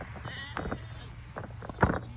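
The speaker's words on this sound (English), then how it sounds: "here we are heading out to the sheep. You can hear them." Sheep bleat a few times at a moderate distance in a pasture with rain approaching, with faint outdoor ambience and a louder bleat near the end.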